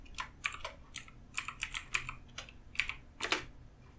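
Rapid clicky typing on a computer keyboard, close and fairly quiet, with irregular bursts of keystrokes and no talking.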